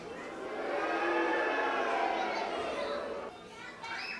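A group of children's voices at a school blows a long, rising, brassy trumpet call together, imitating an elephant, then tapers off with a brief burst at the end.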